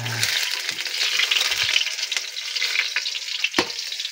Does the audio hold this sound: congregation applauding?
no